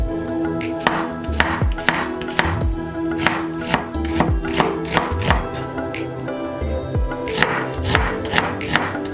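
A knife thinly slices red onion on a cutting board for mango summer rolls, making a quick series of crisp chopping strokes in an uneven rhythm, loud and close over faint background hum.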